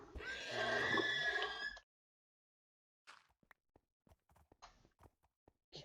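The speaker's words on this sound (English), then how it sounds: "I hated these horses so much." A horse in Minecraft lets out a loud whinny lasting nearly two seconds, followed after a pause by soft, sparse clip-clop and tapping sounds.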